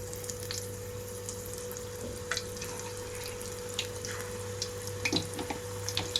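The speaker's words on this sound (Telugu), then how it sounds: "చూడండి, పిండి పైకి తేలేటప్పుడే చిన్నగా పకోడీని ఇందులోకి వేస్తున్నాను." Gram flour batter with fenugreek leaves for crisp pakodi frying in hot oil: a steady, close sizzle with scattered small pops and crackles, and no voices.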